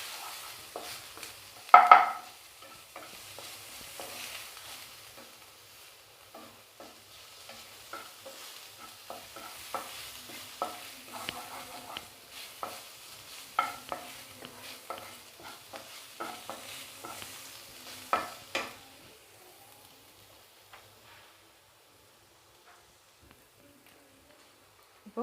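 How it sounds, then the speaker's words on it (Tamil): Ginger garlic paste sautéing in a pan for a potato and coconut milk curry, giving a soft, quiet sizzle with occasional stirring scrapes and clinks near the start, then fading away toward the end. "இப்போ இதை கொஞ்சம் நல்லா வதங்கட்டும் இஞ்சி பூண்டு பேஸ்ட்டு"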